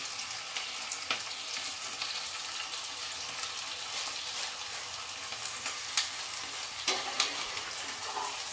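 Onion and fenugreek seeds fry in oil with a steady, close crackling sizzle, while a spoon scrapes and stirs in the pan and a few sharper clinks break through near the end.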